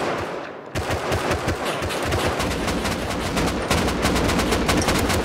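Dense, rapid AK rifle fire in the game Rust: sustained automatic bursts of sharp cracks following a brief quiet start, loud and continuous with no talk.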